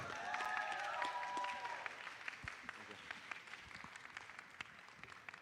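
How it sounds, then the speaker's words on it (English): An audience at a horror film festival awards event gives a round of applause, starting over a voice and thinning into scattered, fainter claps as the crowd settles. "Give yourselves a round of applause"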